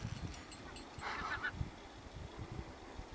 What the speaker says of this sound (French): On partage avec les oiseaux.